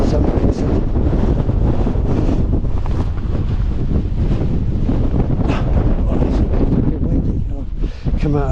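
Strong wind buffeting the microphone on a misty mountain, a loud continuous roaring rumble with gusty surges, while a voice is faintly present under the blustering.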